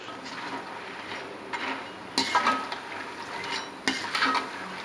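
Kara sev sizzles steadily as it fries in hot oil, a soft continuous crackle broken by a few sharper clinks and stirring scrapes of a metal utensil in the pan.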